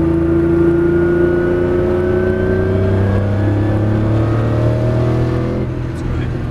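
A 600 brake horsepower Ferrari supercar accelerates on the Hampton Downs race track in Auckland, its engine note rising steadily and loudly from inside the car, with people talking over it.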